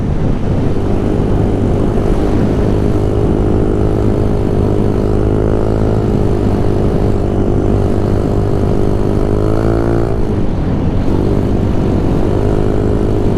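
A 171cc GY6-engined Honda Ruckus scooter cruises on a freeway at about 65 mph, its engine droning loud and steady with heavy wind roar throughout and a brief rise and dip in pitch.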